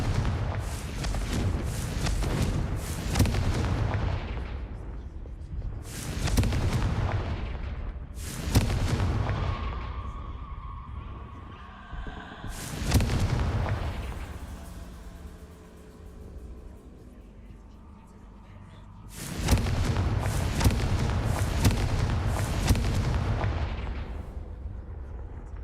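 Confringo explosion spells go off in the video game Hogwarts Legacy: a run of heavy, booming blasts, each rumbling for a few seconds, separated by quieter stretches with lingering game ambience.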